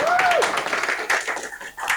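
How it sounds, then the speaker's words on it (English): Audience clapping for a guest speaker at a talk on children's mental health and wellbeing, a steady burst of applause that fills the room for a couple of seconds with a voice briefly rising over it. "We'll give him a round of applause."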